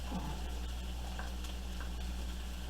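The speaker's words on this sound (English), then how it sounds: "Now we're going to add our onion, a little garlic" Onion and a little garlic fry in a pan used for cooking bacon cheeseburgers, giving a steady, close sizzle with a few faint scrapes and no talking.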